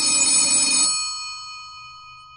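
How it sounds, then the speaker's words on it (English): A store telephone gives a short, bright burst of bell ringing that stops abruptly and leaves a ringing tone slowly fading away, heard alone and close. "But then, the store phone rang."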